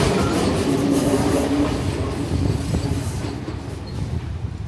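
An Enoden train pulls into a station in Kamakura, with a steady, loud rumble of rolling wheels and rail noise close by that eases slightly toward the end.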